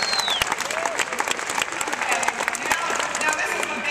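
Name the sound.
audience applause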